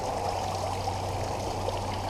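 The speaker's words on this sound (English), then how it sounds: "Putting a little bit of water in, bringing our line up a little bit." Water pours steadily into a newly finished garden pond, a continuous even splashing and trickling close by with no voices over it.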